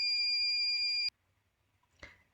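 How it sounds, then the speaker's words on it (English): Buzzer on a smart dustbin sounding its full-bin alert: a single steady electronic beep of about a second that stops sharply, followed by a brief faint knock in an otherwise quiet room. "we can see that the buzzer beeps here and a message of clear dustbin is being"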